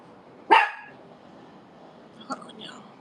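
A puppy gives one sharp close bark, then a quieter yip a couple of seconds later, over a low room hiss.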